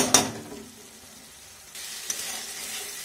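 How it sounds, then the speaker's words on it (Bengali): Spice masala fries in oil in a pan after water has been added. A loud burst of sizzle opens, eases to a quieter bubbling, then a fresh wave of frying rises again alongside stirring scrapes, with no voices. "জল দেওয়ার পর আরও একটু মশলাটাকে ভেজে নেব।"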